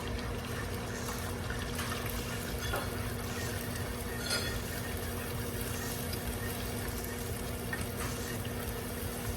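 Eggs fry in oil in a pan while sinangag, Filipino garlic fried rice, is being cooked. A steady, close sizzling hiss runs throughout, broken by a few faint metallic clinks.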